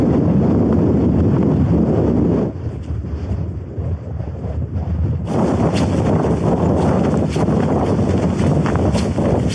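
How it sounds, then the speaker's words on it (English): Strong wind buffets the microphone on a snowy winter mountain summit, a loud continuous roar that eases for a few seconds before gusting back hard and steady. "the wind speed is actually pretty high up here."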